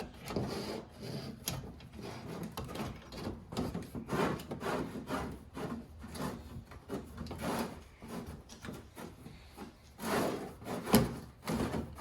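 A hose is snaked through the wheel well of a 2017 Toyota Tacoma while fitting a differential breather extension, giving close, irregular scraping and rubbing against plastic and metal, with bursts of louder friction.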